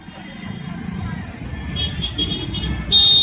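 Busy city traffic in Jaipur during Diwali, with a steady rumble of cars, motorcycles and buses close by. Engine noise swells and a horn-like tone sounds near the end.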